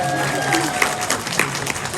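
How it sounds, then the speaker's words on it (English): A comic-con debate panel audience claps, a short burst of applause from a crowd in a hall, with some voices mixed into the clapping. "A round of applause for them"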